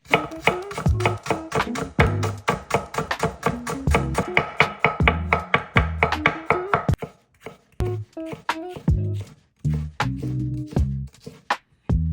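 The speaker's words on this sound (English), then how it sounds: "Start by chopping all the vegetables." A knife chops vegetables by hand on a cutting board for Thai green curry, with quick rhythmic knocks in fast runs and a few short pauses, close and crisp, with no speech.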